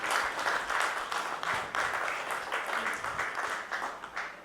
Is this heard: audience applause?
yes